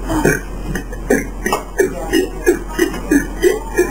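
A person burping during a burping contest, with a rapid series of about nine short, loud belches in a steady rhythm, close to the microphone and mixed with light chuckling.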